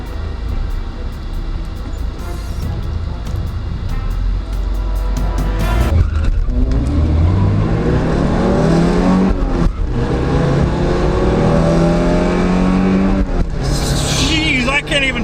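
A Porsche 944 launches hard down a drag strip, its engine note climbing and dropping through several gear changes. The loud, close roar continues without a break, with a brief high squeal near the end.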